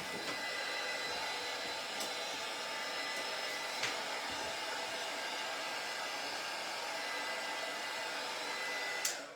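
A blow dryer drying a fall shelf sitter craft piece, a constant close whooshing roar running steadily throughout, with a few faint clicks and no talking.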